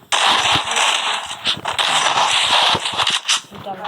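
Rapid gunfire crackles through a first-person shooter match, dense bursts of sharp shots overlapping with footsteps and game effects, while a player talks excitedly over the action.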